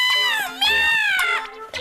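A cartoon kitten meows in a high, drawn-out, wavering cry, followed by a couple of shorter mews, close and clear with no talking over it.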